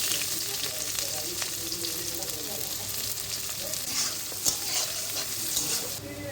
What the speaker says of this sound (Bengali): তারপরে এই পেঁয়াজ কুচিগুলো দিয়ে দিচ্ছি